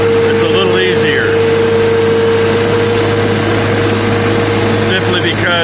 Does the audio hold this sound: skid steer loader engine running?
yes